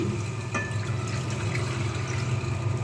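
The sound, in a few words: water poured into a pot for sugar syrup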